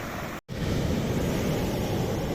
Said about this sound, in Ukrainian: вот оце хвилі.